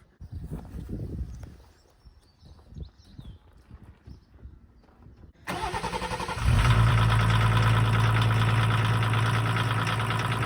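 A Pinzgauer off-road vehicle with diff lock and all-wheel drive: after a few seconds of quiet ambient noise, the engine starts and settles into a loud, steady, close rumble with a strong low drone as it runs.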